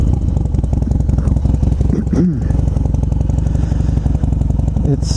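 A motorcycle engine with a micro EFI conversion runs close by, a loud, steady, rapid pulsing chug that holds throughout, while a voice briefly speaks over it.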